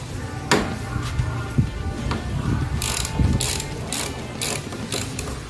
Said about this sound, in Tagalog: Gamit tayo ng ratchet tsaka ng extension.